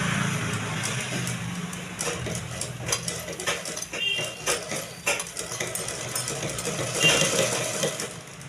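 A sewing machine stitches a folded half-inch hem all the way around the fabric, with a close, rhythmic whirring and clatter that comes in short runs separated by brief pauses.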